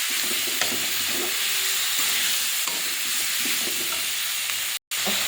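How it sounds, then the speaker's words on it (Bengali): Ridge gourd and potato sauté in a pan with salt, cumin-coriander paste, chilli powder and turmeric, making a continuous close hissing sizzle with occasional soft stirring scrapes and a brief cut to silence near the end. "ঝিঙেটা কষে নিয়েছি"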